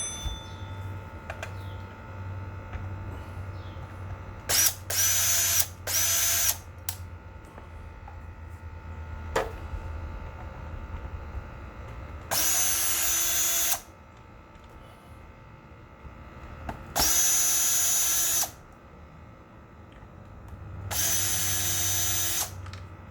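A power drill backs screws out of a Minn Kota Ultrex trolling motor steering pedal in several separate high whirring bursts of one to two seconds, close and loud, with quiet ticking and handling noises between them.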